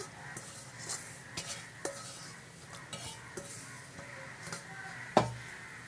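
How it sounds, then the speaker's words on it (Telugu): A spoon stirs grated raw mango and chilli powder through oil in a pan with the stove off, scraping and clinking against the metal in irregular strokes, ending in a sharper clank, close and without talk. "కారం తీసుకుంటున్నాను ఇలా కలిపేస్తున్నాను ఆయిల్లో"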